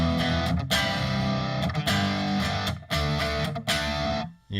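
Distorted electric guitar through a Hot Kitty amp model on a Fractal FM9, a few strummed chords with brief pauses between them, loud and close before the last one fades out.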